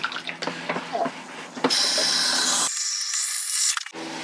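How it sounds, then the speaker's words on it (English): Tap water runs steadily into the bowl of a Thetford Aqua Magic V RV toilet, a loud continuous rushing fill that starts abruptly, holds for a couple of seconds and then cuts off. "We'll put water in the bowl and maybe wait an hour and come back and check on it. So let's turn on the water."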